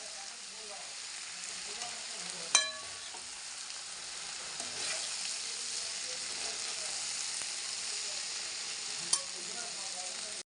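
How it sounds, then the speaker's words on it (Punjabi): Masala spices sizzle steadily in a pan for bhindi (okra) sabzi, a continuous close frying hiss with two sharp utensil clinks from stirring. "1-2 ਮਿੰਟ ਲਈ ਆਪਾਂ ਇਹਨਾਂ ਨੂੰ ਪਕਾ ਲੈਂਦੇ ਤਾਂ ਜੋ ਜਿਹੜਾ ਮਸਾਲਿਆਂ ਦਾ ਕੱਚਾ ਪਾਣਾ ਉਹ ਦੂਰ ਹੋ ਜਾਵੇ"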